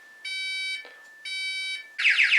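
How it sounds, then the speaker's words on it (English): A Texecom alarm panel keypad sounds its alarm: two steady half-second electronic tones separated by brief gaps, followed by a harsher warbling pulsed tone, loud and close with no talking. "When the alarm system activates, you'll hear the sound from the keypad."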